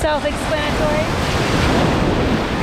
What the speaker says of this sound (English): The waves are strong.